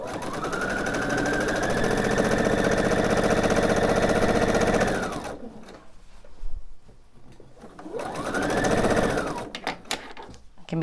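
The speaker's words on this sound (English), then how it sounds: "So back in my machine, I'm going to sew the length of this seam." A sewing machine stitches a long quilt seam for a color wheel quilt, running steadily and loudly for about five seconds, pausing, then starting again for a shorter burst, with no talking.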